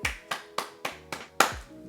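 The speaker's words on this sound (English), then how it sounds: "golf clap for you" Six slow, evenly spaced hand claps ring out close and alone, a deliberate, sparse golf clap with short gaps between each smack.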